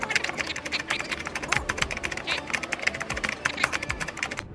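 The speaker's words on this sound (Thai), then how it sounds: "เดี๋ยวมาพิมพ์ดีกว่า" Rapid typing on the keyboard attached to a Huawei MatePad 11.5 LTE tablet, a steady run of close, crisp key clicks lasting the whole stretch with no talk.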